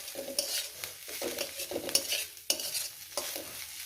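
Coriander leaves frying in a pan for an aubergine fry dish, a soft sizzle under repeated scraping and stirring strokes with a utensil, close and moderately quiet, with no talking.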